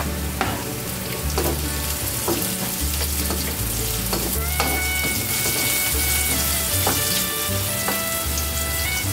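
Garlic and then onion fry in hot oil in a pan for a milkfish soup. A steady loud sizzle runs throughout, broken by repeated scraping and stirring clatter from a spoon against the pan. No one speaks.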